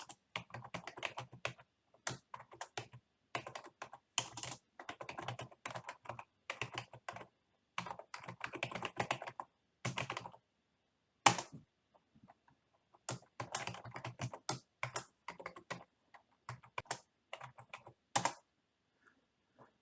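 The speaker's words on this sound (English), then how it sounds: "You would need to type your email address." Keys clatter on a computer keyboard as an email address is typed, close and crisp, in quick bursts broken by short pauses, with no talking.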